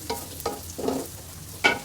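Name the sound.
onions and green chillies frying in oil in a wok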